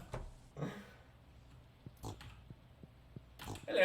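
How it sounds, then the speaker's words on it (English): Pigs in the farming video game Stardew Valley give a few short, quiet oinks and grunts at scattered moments, with soft clicks in between and no talking. "my sweet little baby pig friends"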